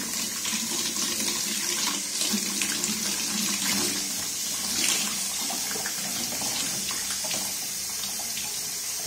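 Tap water runs steadily into a sink while an RO membrane is washed under the stream, a close, continuous splashing rush with small clatters of handling and no speech.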